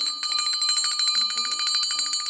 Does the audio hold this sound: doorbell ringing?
yes